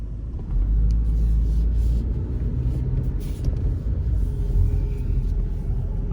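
Inside a car driving along Scottsdale Road, a steady low engine and road rumble continues throughout at moderate loudness, with faint clicks and light rattles over it and no talking.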